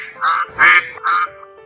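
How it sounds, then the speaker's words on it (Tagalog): Three loud, nasal duck quacks in quick succession, close and clear with short pauses between them. "Ganon ang tunog ng bibe."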